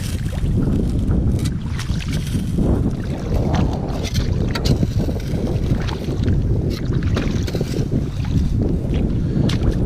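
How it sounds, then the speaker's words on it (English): Strong, steady wind buffets the microphone outdoors beside the Alabama River, a loud continuous low roar with gusty surges throughout and no speech. "The wind is getting harder."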